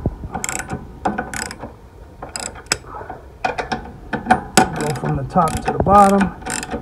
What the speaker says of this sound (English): Next step is you're gonna wanna ratchet those tight.